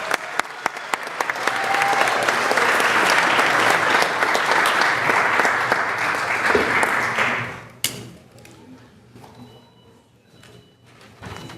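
An audience at a city council meeting applauds the coaches, dense clapping that builds and holds for several seconds, then breaks off abruptly into scattered claps, shuffling and room noise.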